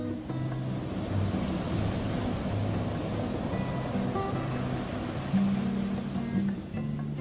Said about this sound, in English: lots of water came rushing through the camp.